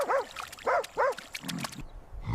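Wild dogs on the savanna attack a rolled-up pangolin, giving three close whining, yelping cries followed by scuffling and rustling, loud and with no talk.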